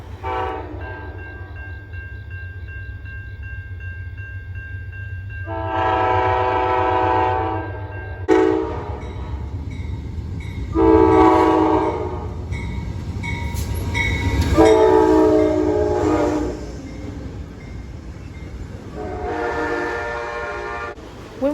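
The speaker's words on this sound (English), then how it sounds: "I was so excited seeing the train pull in." A train rumbles steadily nearby while its horn sounds in several long, loud blasts, separated by stretches of rolling engine and wheel noise.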